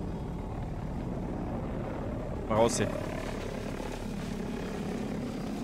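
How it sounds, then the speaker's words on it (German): A helicopter in the Battlefield 2042 video game, a steady rotor and engine drone under continuous game noise, with a short sharp burst midway and a voice talking over it. "Junge, da ist ein Helikopter."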